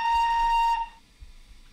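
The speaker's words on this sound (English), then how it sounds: "Same whistle for this one." Steam locomotive whistle of an LNER Y7 tank engine in Train Sim, a single steady shrill blast held for under a second and then cut off, leaving quiet rumble behind.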